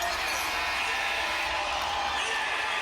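A basketball arena crowd at a Seattle Storm vs Atlanta Dream game roars and cheers as fans stand, a dense, continuous wash of noise filling the space with no break.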